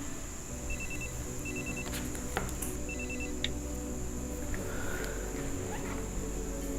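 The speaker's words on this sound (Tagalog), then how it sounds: "tumatawag si Agent Ramon" A telephone rings in a tense drama scene, giving three short bursts of bright electronic trilling over a steady bed of background music.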